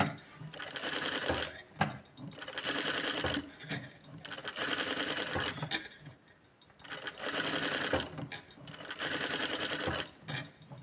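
A sewing machine stitches fabric along a curve in several bursts of fast, even whirring, each stopping briefly while the presser foot is lifted and the fabric is turned. The machine is close and clear, and no one speaks.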